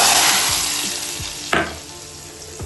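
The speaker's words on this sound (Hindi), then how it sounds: "जब हल्का सा जीरे लहसुन का तड़का दूँगी" Cumin and garlic tempering in oil sizzles and crackles steadily in a hot pan for dal, with a few soft stirring scrapes and one sharper clink partway through.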